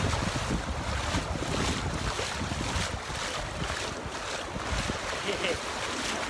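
Sea waves wash steadily onto the beach below the Burj Al Arab in Dubai, a continuous broadband roar of surf mixed with wind buffeting the microphone, no distinct breaks standing out.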